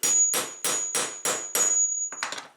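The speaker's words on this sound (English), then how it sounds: "and then you take your hammer" Five sharp metallic hammer strikes on a rivet punch ring out at an even pace, followed by a quick cluster of lighter taps, close and loud.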